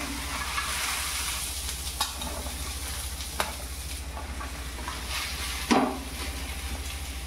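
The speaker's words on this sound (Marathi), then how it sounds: "मी एक तव्यात भेंडी सगळी टाकली" Okra frying in a little hot oil on a flat iron tawa, a steady sizzle broken by a few sharp scrapes and clacks of stirring, with one louder knock near the end; no one speaks.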